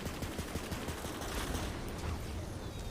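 Rapid bursts of gunfire from the looter-shooter game Tiny Tina's Wonderlands, dense overlapping shots crackling in quick succession for the whole stretch, fairly loud with no voices over them.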